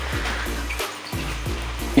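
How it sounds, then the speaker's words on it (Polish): Water draining out of a low-tech planted aquarium, a continuous close gurgling pour with rhythmic low sloshing pulses, steady and fairly loud. "i zlewam wodę"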